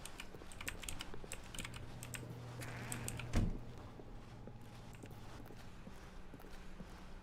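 Keyboard clicks tapping in a quick run in The Stanley Parable, faint and close, with one louder thump partway through and a steady low hum beneath.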